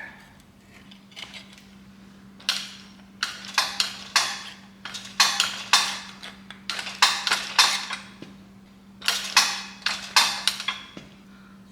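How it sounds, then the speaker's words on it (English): A metal shrinker tool works sheet metal on an International vehicle, giving a rapid series of sharp, close metallic clacks in bursts over a faint steady hum. "Let me go hit it with a shrinker."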